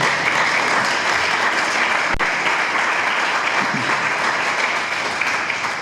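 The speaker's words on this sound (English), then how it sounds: "I'd like for us to please give our panelists a round of applause." An audience applauds panelists after a panel discussion at a club in Bermuda, a loud continuous round of clapping that fills the room throughout, with a sharp knock partway through.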